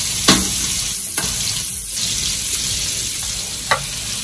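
Tomatoes simmer and sizzle in a pan for adobong pusit, a steady close frying hiss broken by a few sharp clanks of a utensil against the pan.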